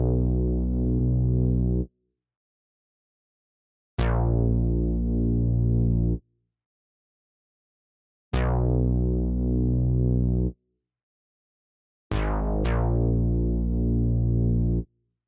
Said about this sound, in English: I rendered the bass line out and it sounds like this.